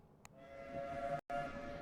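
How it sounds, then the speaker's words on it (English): A freight train rolls along in a video game, a steady mechanical rumble with a sustained tonal hum, briefly cut off by a short gap of silence. "We're on a freight train"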